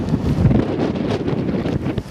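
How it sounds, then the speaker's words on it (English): Strong wind blowing across the microphone on a windy afternoon, a loud continuous buffeting rumble with gusty swells, heard alone without talk. "it's very windy"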